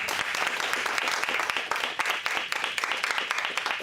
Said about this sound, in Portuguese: E uma salva de palmas para todos nós.